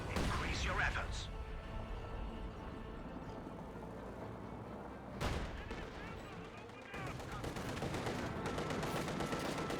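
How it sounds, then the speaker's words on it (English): Battle din from Company of Heroes 2 with a T-34 tank firing amid scattered gunfire and explosions, a sharp heavy blast standing out midway over continuous rumbling combat noise. "As we see a bit of fire from this T-34"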